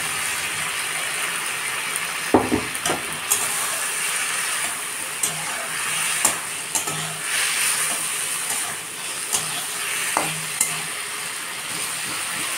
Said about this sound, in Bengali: এবার আমি ভেজে রাখা কচুটাকে দিয়ে দেব।